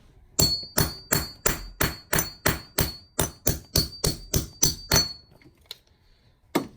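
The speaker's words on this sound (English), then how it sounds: "I'll get my handy hammer, and we'll just drive this right through this coin." A rapid series of about fifteen sharp metallic hammer blows in a steady rhythm, driving a punch through a 1954 silver quarter coin, ringing slightly, then a pause and one final strike.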